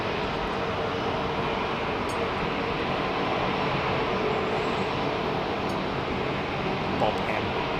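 A British Airways A320 takes off at Heathrow Airport in the evening, its engines giving a steady, loud broadband roar that holds evenly throughout with no break.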